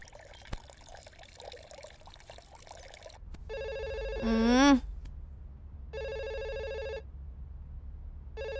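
A telephone rings in regular electronic bursts with pauses between them, over a quiet background with a brief warbling tone mid-way.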